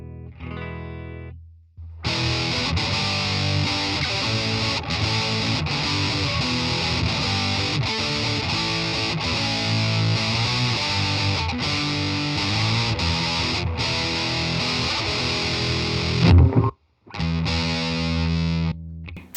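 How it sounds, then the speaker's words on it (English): A heavily distorted electric guitar riff through a Boss Metal Zone MT-2 pedal, thick saturated metal tone played loudly and continuously, then a brief cut and a few ringing chords. "So that was the Boss Metal Zone MT2. That's one of my favorite pedals"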